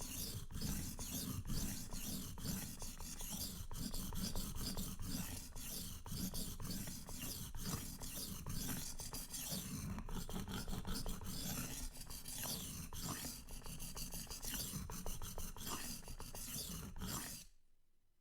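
A knife edge is worked back and forth on a Suehiro or DMT whetstone, producing a continuous gritty rasping of rapid close strokes for about seventeen seconds before stopping abruptly, with no voices.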